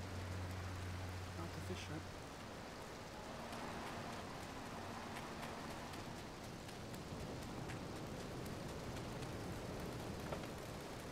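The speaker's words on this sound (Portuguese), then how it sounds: "Nossa, chuva!" Steady rain pours across a street in Grand Theft Auto III, a constant even wash of falling water heard from close by, with someone speaking briefly over it.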